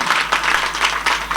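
A kirtan audience applauds Bhagavatacharya Amolji Maharaj Shastri with loud, dense clapping that swells in several rhythmic surges, filling the space without a break.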